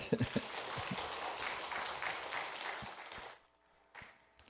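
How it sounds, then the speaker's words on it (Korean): A church congregation at a Sunday service claps in a steady burst of applause that swells and then fades out, leaving a few scattered claps and taps in a quiet room. "듣기를 원하시면 뜨겁게 박수로."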